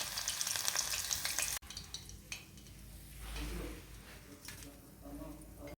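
Crushed garlic, about four cloves, frying in oil for a mixture snack: a bright sizzle at first, then quieter crackling with faint pan and utensil clinks and a low rumble, close by, with a voice in the background.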